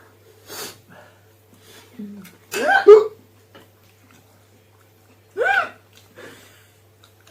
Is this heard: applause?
no